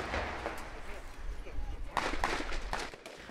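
Explosion during a police raid in an industrial zone near Charles de Gaulle airport, Paris, heard as sharp bangs amid ongoing gunfire, with several louder impulsive hits toward the end over a busy, noisy background.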